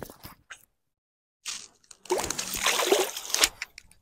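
Striped bass from the Housatonic River in Connecticut released back into the water: a sudden close splash and sloshing burst after brief drips, with no talk.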